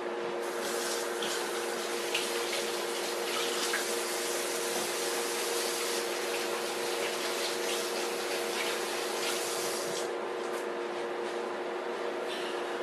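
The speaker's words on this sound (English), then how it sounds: "I'm immediately going to wash my hands." Water runs steadily from a kitchen tap while hands are washed under it, a close, even rushing splash that continues without a break.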